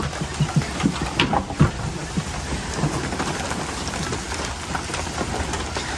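Steady rain patters on a shelter roof overhead, with a few louder drips and thumps early on and a low rumble underneath throughout.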